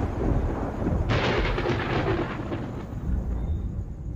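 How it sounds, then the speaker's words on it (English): Thunder from an electrical storm over Yosemite's granite cliffs; a deep, broad rumble swells in suddenly after a second and rolls on for several seconds before slowly fading, with no voices. "the ever-present risk of a climber's nightmare, an electrical storm."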